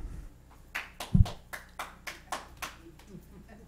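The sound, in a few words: audience applause at city council meeting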